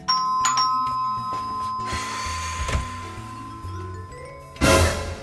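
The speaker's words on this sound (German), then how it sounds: "Ah, schau, pünktlich, es hat schon geläutet." A doorbell rings in a home, its chime tones standing out against a busy background with music-like sustained tones; a brighter burst follows near the end.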